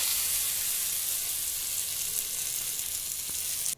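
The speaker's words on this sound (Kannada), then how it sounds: "ಈ ಒಂದು ಒಗ್ಗರಣೆನ ಚಟ್ನಿಗೆ ಹಾಕ್ಕೊಳ್ಳೋಣ." Hot oil tempering with curry leaves for chutney sizzles and crackles steadily and loudly, alone, then cuts off abruptly at the end.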